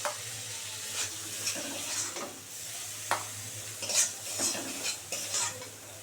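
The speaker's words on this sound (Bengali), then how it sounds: "এই যে লবণ হলুদ দিয়ে একদম চিংড়ি মাছটা ভেজে নিলাম।" Prawns seasoned with salt and turmeric fry in a pan, a steady soft sizzle broken by scraping stirs and occasional clinks of a utensil against the metal, with a low hum underneath.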